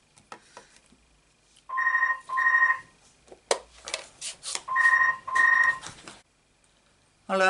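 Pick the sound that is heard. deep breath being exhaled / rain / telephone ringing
telephone ringing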